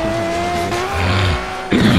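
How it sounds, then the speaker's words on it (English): A Lamborghini in the Forza drag racing video game roars loudly, its engine revving with a steady rising tone before a sharp burst of tire noise near the end. "So this is my brand new Lambo."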